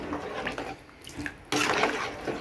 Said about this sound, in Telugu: తగినన్ని వాటర్ వేసి